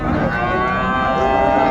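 A long, low cow moo carries steadily over a busy outdoor background at a cattle market in Raniganj, Dinajpur, loud and close.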